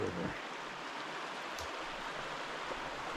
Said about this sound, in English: Now we're down to the river.